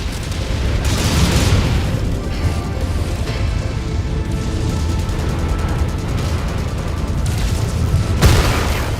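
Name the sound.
missile explosion in MechWarrior 5: Mercenaries video game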